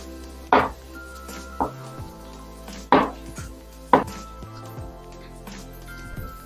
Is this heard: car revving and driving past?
no